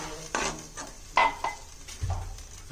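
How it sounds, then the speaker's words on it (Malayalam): A few scattered clinks and scrapes of a utensil against a pot of fish curry, with soft sizzling underneath. "ഇതൊക്കെ നന്നായിട്ട് ഇളക്കി കൊടുക്കണേ"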